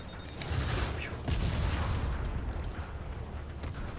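Rocket explosions in the Spider-Man PS4 video game: a dense run of heavy booms and rumbling blasts filling the whole stretch, with a sharp hit near the start and another burst mid-way, under game noise.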